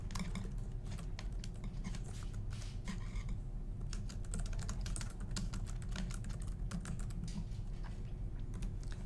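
Dense, rapid keystrokes on a computer keyboard clatter continuously at close range, an uninterrupted run of typing with no voices.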